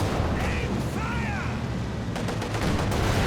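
Machine gun fire from base MG emplacements in Company of Heroes 2, rapid bursts layered into a dense, continuous battle din with explosions and a voice briefly audible amid the noise.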